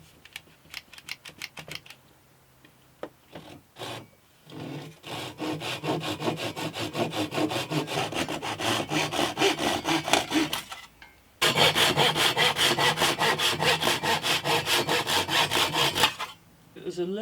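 Wooden acoustic guitar sides are trimmed with a handsaw in close, rhythmic back-and-forth strokes, a short burst first, then two long runs of steady sawing separated by a brief pause, no talking.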